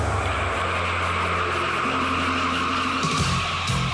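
Car tires squeal and skid steadily during a brake pad stopping test, a loud, sustained screech with a droning engine underneath and a pitch that shifts toward the end.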